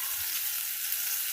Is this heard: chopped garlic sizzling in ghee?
yes